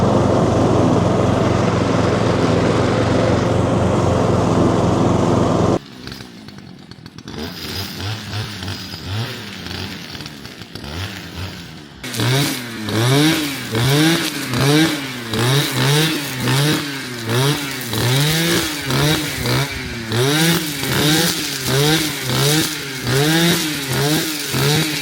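A Stiga riding lawn mower cuts grass, its engine droning steadily and loudly, dipping briefly before returning with a pulsing, wavering note as the machine works across the lawn.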